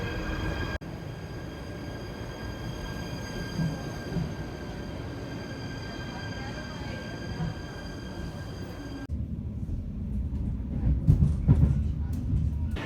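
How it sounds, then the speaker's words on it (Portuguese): A train arrives at a Dutch railway station with a dense, steady rumble and rolling rail noise along with high whining tones, then the sound shifts and louder rattling clanks come up close near the end. "já tá vindo um trem, que é esse aqui inclusive"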